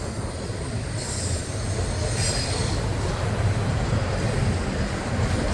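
An FEC train rolls steadily over a bridge, a continuous dense rumble of wheels with faint high squealing from the rails along the whole passage, no voices.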